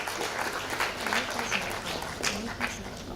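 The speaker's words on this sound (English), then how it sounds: "Big round of applause, ladies and gentlemen" Applause from an audience at a charity concert and launch event, a steady broadband patter of many hands held at moderate distance for a few seconds.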